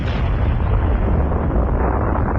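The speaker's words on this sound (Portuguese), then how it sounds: "provocando uma explosão de proporções nunca vistas" An atomic bomb explosion produces a loud, sustained roar of dense rumbling noise that fills the whole stretch with no break, with no talking.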